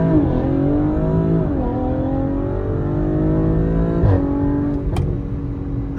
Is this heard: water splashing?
no